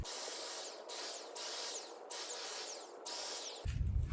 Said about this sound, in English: I'm going to spray some lines on this cardboard I have on the ground